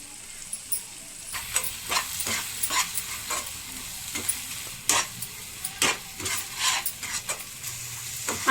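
Masala spices for a mushroom curry, including garam masala and coriander powder, stirred in a pan as repeated sharp scraping strokes of a spoon against the metal, close-up over a quiet background hiss.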